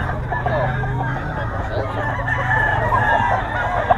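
A Roundhead Kelso gamecock stag, eight months old, crows amid a busy rooster-selling yard where other fowl cluck and call, and the crowing carries over steady background chatter of the market.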